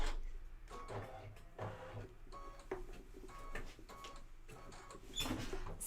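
A multi-needle embroidery machine stitching, giving a steady rapid mechanical ticking and whirring with faint rattles, moderately quiet and continuous, with no talk over it.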